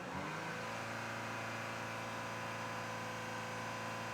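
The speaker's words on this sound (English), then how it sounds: "so I'm gonna rev up the engine." Audi Q5 engine revving under the hood while a turbo boost fault is being diagnosed, a steady loud engine drone rising briefly at the start and then holding high revs throughout, with no talking.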